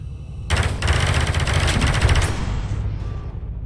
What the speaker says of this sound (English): Some regular shooting gameplay.